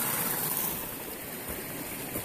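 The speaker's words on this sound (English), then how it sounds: "underneath where the water's spilling out from the sluice there" Water spills out of a gold mining sluice while prospecting in Idaho, making a continuous, close, broadband rushing and splashing wash that holds steady for a couple of seconds with no voices.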